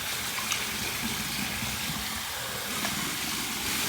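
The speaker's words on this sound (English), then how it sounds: "I'm going to go ahead and rinse my head now" Water runs steadily over a freshly shaved bald head during a rinse, a continuous close splashing hiss with no voices.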